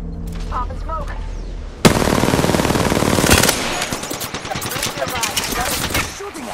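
Rapid automatic gunfire in a battle royale video game erupts after a quieter opening with faint voices, a loud sustained burst followed by continued stuttering shots of varying intensity.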